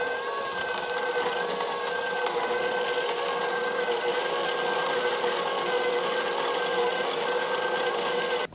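A KitchenAid grain mill grinds Azure Standard wheat on a low setting, giving a loud, continuous mechanical whine and grinding hum that holds steady throughout.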